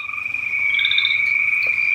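Frogs croaking in a swampy backyard, a steady, loud, continuous chorus that holds throughout with a faint extra call midway and no talking.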